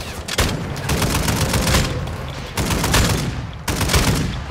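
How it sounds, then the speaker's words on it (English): Dense, sustained video-game gunfire, with rapid automatic bursts filling the whole stretch and brief breaks between volleys, loud and close with no talking. "Just shoot at him. Just shoot at him behind us."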